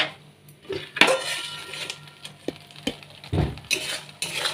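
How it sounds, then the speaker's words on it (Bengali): A utensil stirs a cornflour-thickened sauce in a pan, giving irregular scrapes, clinks and knocks against the metal, some sharp and some soft, spaced unevenly with quiet gaps between. "2 চামচ কর্নফ্লাওয়ার গোলা এর মধ্যে দিয়ে দেবো, দিয়ে নাড়তে থাকবো একটু ঘন হয়ে আসলে"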